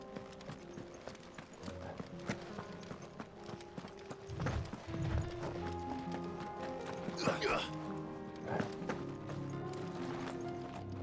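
Boot footsteps in the video game Final Fantasy XVI clop like horse hooves, a rhythmic run of hard knocks heard under game music and a voice talking throughout.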